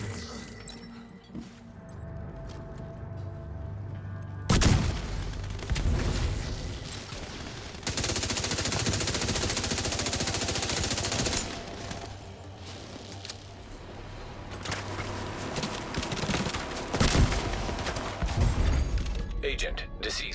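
Gunfire in the video game The Division 2 comes in bursts of rapid automatic shots with sharp cracks and impacts, alongside a sustained loud stretch of heavy fire. In-game voices speak between the volleys.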